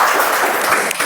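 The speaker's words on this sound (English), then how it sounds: "Can we have a round of applause for him" Brief, dense applause from a club meeting audience welcoming a new speaker, a steady wash of many hands clapping together at close range, with no talk over it.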